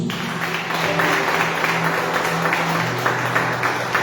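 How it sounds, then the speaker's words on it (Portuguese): Congregation applauding in a church service, a steady wash of dense clapping that holds evenly throughout without clear pauses, with a faint sustained organ or keyboard tone beneath. "Ali palmas para Jesus."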